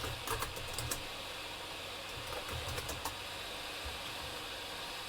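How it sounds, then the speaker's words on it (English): Someone types a command on a computer keyboard, with sparse soft key clicks in short bursts against a steady background hum. "let me just type in React"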